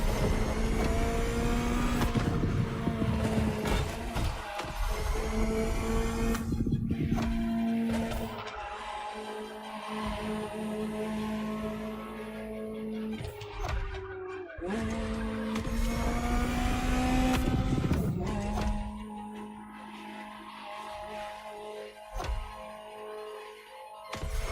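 A Ferrari supercar engine revs and roars loudly nearby, rising and falling through several pitch sweeps with brief drops between pulls, alone without speech.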